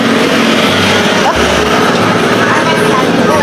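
A loud black motorcycle fitted with an MDL exhaust rides away, its engine roar loud and sustained with a brief revving surge, while voices talk in the background.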